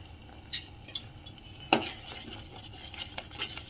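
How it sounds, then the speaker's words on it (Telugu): A utensil stirs moong dal and jaggery halwa with ghee in a pan, giving soft scraping and occasional sharp clinks of metal against the pan, close and fairly quiet, with no talking. "మంచిగా కలుపుతూనే ఉండాలి."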